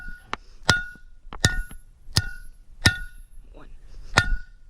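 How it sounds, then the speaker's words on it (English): Metal hammer striking out parts during a disc brake conversion, about six sharp ringing clanks in an uneven rhythm, loud and close, with someone talking faintly in between. "literally just take the hammer, pound them out."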